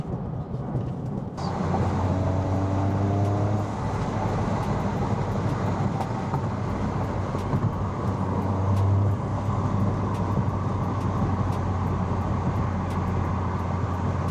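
Toyota GR Corolla with a new intercooler, accelerating hard in fourth gear: a steady, loud droning roar with rising engine tones heard from inside the car, continuous for about fourteen seconds with no talk.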